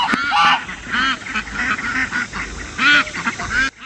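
Ducks and geese honking and quacking repeatedly in a farmyard bird pen, close and loud, overlapping calls in an uneven rhythm throughout, with a faint voice briefly in the background.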